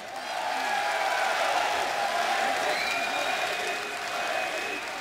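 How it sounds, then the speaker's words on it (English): An esports arena audience at the ELeague Boston Major 2018 Counter-Strike quarter-final applauds loudly and steadily, with scattered cheers and whoops, and a commentator's voice is faintly audible underneath. "Give that man a round of applause, guys,"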